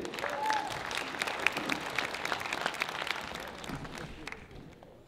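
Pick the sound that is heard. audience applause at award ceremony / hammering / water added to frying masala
audience applause at award ceremony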